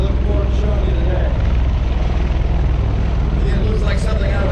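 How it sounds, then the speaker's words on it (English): A V-22 Osprey tiltrotor aircraft taxiing, its rotors tilted forward, gives a steady, loud, dense roar of engine and rotor noise that holds level throughout, with no break. "As we taxi around, all we're doing is tilting the rotors themselves forward"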